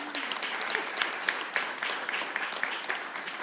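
An audience claps for the volunteer judges at a startup pitch competition, a dense, steady patter of many hands at moderate distance that holds evenly throughout.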